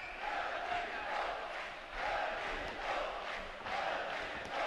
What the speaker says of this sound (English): He's got a large home crowd cheering him on.